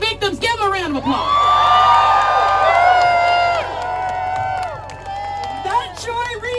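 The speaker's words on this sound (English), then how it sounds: "Give them a round of applause." An outdoor political rally near the U.S. Capitol in Washington, where a large crowd bursts into sustained cheering, whooping and applause for several seconds, loud and close, before it fades back toward a speaker's voice.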